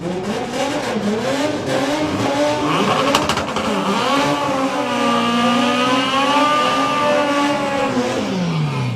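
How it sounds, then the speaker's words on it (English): A 9-second street-legal VW Beetle drag racer with a flat-four engine, roaring loudly and steadily as it revs and pulls hard through rising and falling engine notes at a drag strip, with no talk. "James Wotton, one of the Outlaw Flat 4 racers, his 9-second street legal VW Beetle."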